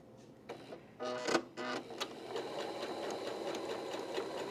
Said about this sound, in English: I put a darker color thread into my machine so you can see this. But what I'm going to do is stitch on that line